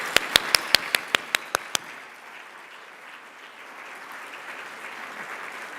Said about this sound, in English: So let's give a round of applause to all of the MSOY spouses.